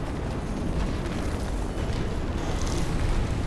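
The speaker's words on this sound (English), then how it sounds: "I'm going to use my missiles here." Missiles launched and detonating in the online action game Skyforge, played as a gunner, make a dense, continuous roar of overlapping blasts and booms that holds steady and loud throughout.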